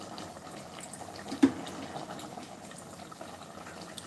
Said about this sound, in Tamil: சரி, கொதிக்கட்டும்.